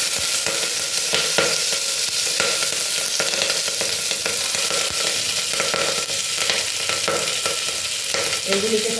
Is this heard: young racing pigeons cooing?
no